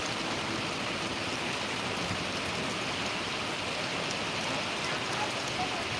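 Heavy monsoon rain in Buldhana district, Maharashtra, pours down in a dense, unbroken roar, steady and fairly distant throughout.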